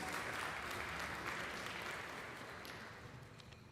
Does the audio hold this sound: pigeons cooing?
no